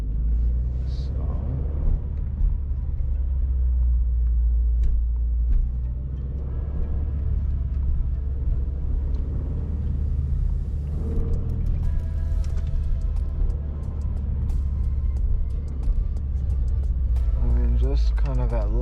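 Car with a COBB Accessport tune driving on a road, with a steady low engine and road rumble throughout and occasional light revving, heard from inside the cabin.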